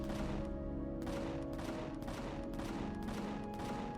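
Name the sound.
gunfire in the video game Empyrion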